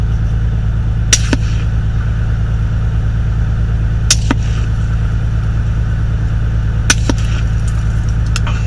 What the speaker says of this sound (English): supersonic ammunition is probably going to be shot at you from a rifle, and it's going to sound first probably like a crack, followed by a thump.